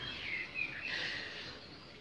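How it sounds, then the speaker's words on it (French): Birds chirp faintly in a garden outdoors, with thin high calls repeating over soft background noise. "On entend encore les oiseaux dans mon jardin."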